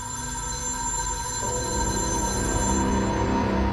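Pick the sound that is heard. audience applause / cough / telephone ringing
telephone ringing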